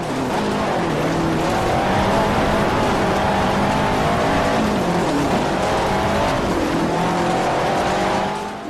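A 2005 Subaru Impreza rally car in Forza Horizon roars continuously at high revs, with the engine pitch rising and dropping through gear changes and tires scrabbling and skidding on loose ground, loud and close.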